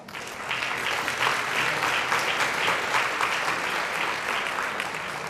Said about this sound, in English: So all of you, please give a round of applause to yourself.